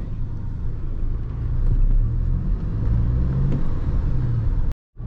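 Scrapper truck engine running while driving, a continuous low rumble and whir with mild rises in revs, heard from inside the cab and cut off abruptly at the end.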